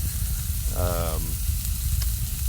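Onions and garlic for chicken chili sizzle in a pan with a steady close hiss, broken briefly by a short harmonic squeak near the middle.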